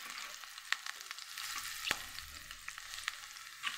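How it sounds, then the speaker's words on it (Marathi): Mustard seeds, cumin and green chilli sizzling in hot oil for a tadka, a steady close hiss broken by sharp scattered pops and crackles, no voices. "आता टाकू त्याच्यामध्ये राई, जिरे आणि हिरवी मिरची।"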